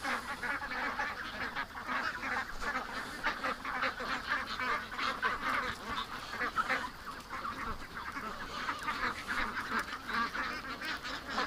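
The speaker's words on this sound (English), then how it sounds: "Come on, ducks, in you go." A flock of ducks quacking continuously and loudly nearby, a dense overlapping chorus of nasal honking calls with no pauses.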